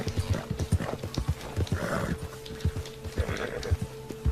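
A horse in Red Dead Redemption 2 clip-clops along with steady rhythmic hoofbeats, close and clear, broken by a couple of snorts or whinnies.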